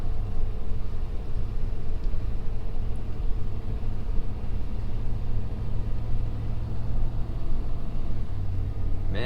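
A 2020 Ford Super Duty truck engine drones steadily as it climbs a steep, snow-covered mountain road under light throttle, a continuous close low rumble with no voices.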